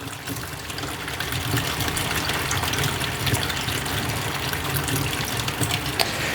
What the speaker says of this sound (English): we'll just rinse this out and dump it into the tray